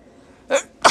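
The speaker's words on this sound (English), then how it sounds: "I have to sneeze." A single person sneezes, a short breathy intake rising into a loud, sharp burst near the end after a quieter lead-in, with a small build-up just before.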